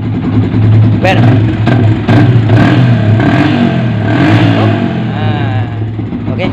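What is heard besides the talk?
Yamaha Vixion motorcycle engine starting and running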